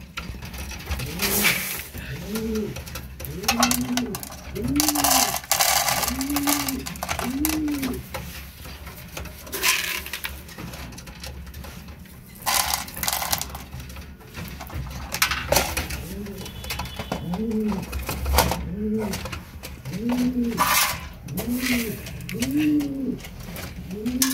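Racer pigeons in a loft at feeding time coo over and over in a steady, rolling rhythm, several birds overlapping at close range above a low mechanical hum, with occasional rustling and brief pauses between bursts.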